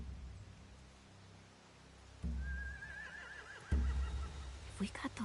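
Horses neigh in a video game set in The Walking Dead, a wavering whinny rising over a low rumbling background, with heavy thuds before and after it and faint speech underneath.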